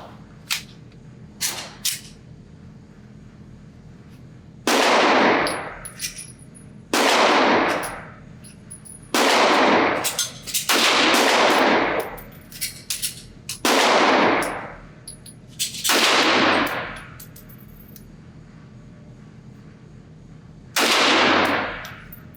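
A Walther WMP .22 Magnum pistol is fired at a target 25 yards away, sharp loud cracks spaced a second or two apart, each with a short ringing tail, with faint metallic clicks between.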